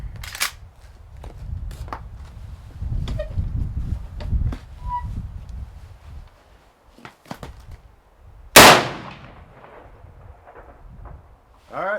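A 45-70 rifle loaded with a hard cast, gas-checked bullet fires once after a hang fire, a sharp loud report standing out from quieter handling noises and low rumble, with a voice speaking around it.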